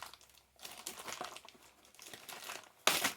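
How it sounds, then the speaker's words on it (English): Small plastic bags holding NASCAR die-cast cars crinkle close up, irregular rustles and crackles in bursts, ending in a sharp louder crunch. "They have them in these little bitty plastic bags"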